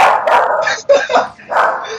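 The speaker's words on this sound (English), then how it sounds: "my dog is acting crazy" A dog barks excitedly in an indoor room, several sharp bursts in quick succession at close range, with people talking over the sounds.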